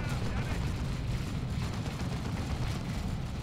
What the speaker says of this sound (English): Creeping barrage scaring off all of the scout snipers